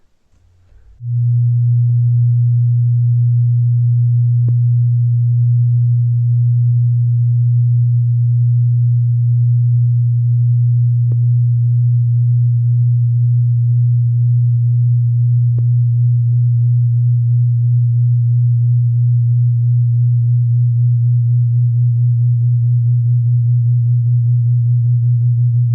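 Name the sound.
two tone generators beating out of tune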